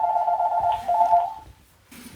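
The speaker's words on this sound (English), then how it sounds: "there's the phone." A telephone rings with a trilling electronic tone in two rapid bursts, close and clear over low background noise, then falls quiet before faint sound resumes.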